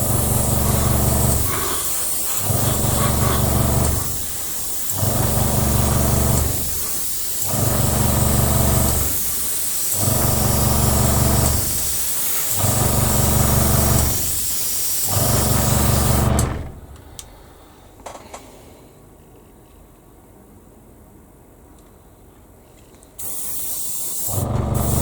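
An air spray gun hisses paint onto a B-17 model in repeated bursts of about two seconds with short gaps between them, loud and close. After the bursts stop, a quiet stretch follows, and then a final hiss comes in.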